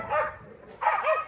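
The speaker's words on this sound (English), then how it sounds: "See, so now she's got the dogs wrestling." Dogs barking while wrestling together: two sharp, close bark bursts in quick succession, loud and nearby, with a brief gap between them.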